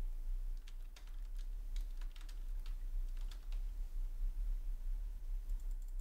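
Someone types a text prompt on a computer keyboard, a quiet patter of key clicks in uneven bursts over a low steady hum, with no voices.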